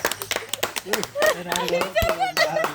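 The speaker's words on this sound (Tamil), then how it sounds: "கைதட்டுங்க கைதட்டுங்க" Family members at home clap their hands in short bursts of irregular claps, mixed in and under ongoing talking.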